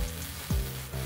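Gas welding torch flame hissing on 2mm mild steel sheet, a steady close roar with a brief flare in the middle, no voices.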